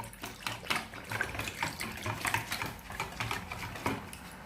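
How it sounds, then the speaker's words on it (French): Water from a kitchen tap splashes into a cooking pot of stuffed yellow carrots, a continuous close rushing with uneven gurgles and small metallic clinks, and no speech over it. "Maintenant, je suis en train de mettre de l'eau."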